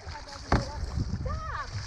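Water splashes against a small boat off Grand Turk, one sharp slap standing out among choppy sloshing, with people talking over the noise.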